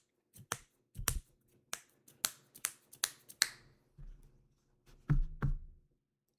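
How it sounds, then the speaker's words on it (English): Crisp finger snaps, around a dozen in an irregular sequence at close range, some sharp and bright and a few duller and thuddier, with short silences between them. "me when I snap my fingers"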